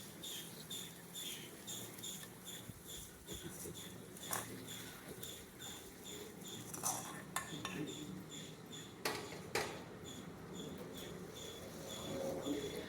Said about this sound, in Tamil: இப்போ இதில் இந்த தாளிப்பை கொட்டிடலாம்.